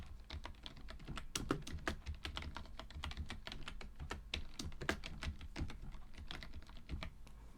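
Rapid, steady typing on a computer keyboard, close and fairly quiet, with continuous key clicks and no talking.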